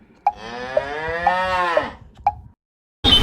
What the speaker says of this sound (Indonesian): Kita semua tahu kalau di India sapi itu suka nongkrong di tengah jalan.